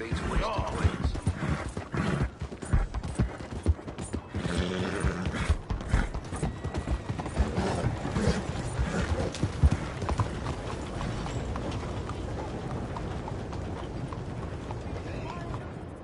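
In Red Dead Redemption 2, a ridden horse's hooves clip-clop steadily and rhythmically throughout, a continuous patter of hoofbeats with occasional creaks, while voices talk over parts of it.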